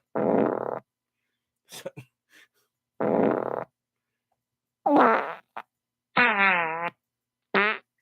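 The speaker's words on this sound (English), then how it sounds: "that's been exactly several minutes of farting on sound guy's part" A run of farts, several separate bursts spread across the stretch, some long and droning and others short and sputtering, close and fairly loud with silent gaps between them.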